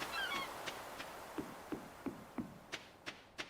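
Seagull in the video game Conan Exiles giving a series of short, sharp calls at a steady rhythm, about eight in three seconds, moderately close and fairly quiet over a faint background.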